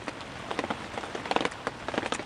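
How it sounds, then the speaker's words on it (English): Rain falling outdoors on a cold 40-degree day, a steady patter with scattered close drops pattering on a surface, continuous and moderately loud with no talk. "It's 40 degrees outside and raining."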